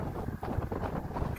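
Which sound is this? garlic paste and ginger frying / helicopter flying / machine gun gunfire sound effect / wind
wind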